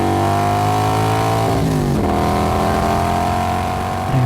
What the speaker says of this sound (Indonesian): Mas Nanung menarik gas motornya kuat-kuat.